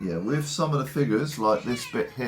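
A pet cat meows loudly and repeatedly in drawn-out, wavering calls while a person keeps talking over it.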